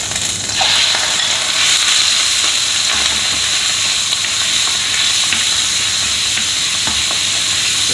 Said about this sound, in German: Die Butter wird jetzt zerlassen und da drin werden wir jetzt die Leber